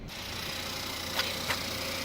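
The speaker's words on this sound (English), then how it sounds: "And the engine sounds nice and quiet." A Buick Regal with a 2.0-litre turbo engine idles quietly, giving a soft, steady low hum with a couple of faint ticks near the end.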